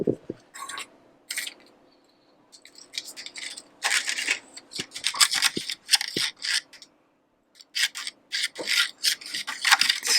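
A spoon stirs and scrapes through popsicle mixture in a container, in irregular close bursts of scraping and rubbing separated by quiet pauses, with a few light clinks.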